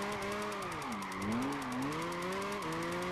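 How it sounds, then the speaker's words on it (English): A BMW 1 Series tii drifts in Gran Turismo 5, its engine droning loudly with rising and falling pitch and tyre squeal under it, continuous for a few seconds. "car is very, very easy to drift with"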